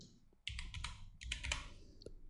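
Rapid keystrokes clatter on a computer keyboard, first a brief tap, then a quick burst of clicks, a pause, another flurry and a final single press, close and fairly quiet.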